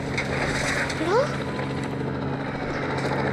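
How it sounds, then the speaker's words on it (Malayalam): A steady police helicopter rotor drone in the video game Indian Bike Driving hums throughout, with a brief rising synthetic tone partway through. "പോലീസ് ഹെലികോപ്റ്റർ ഒന്ന് വെടിവെക്കുന്നടാ."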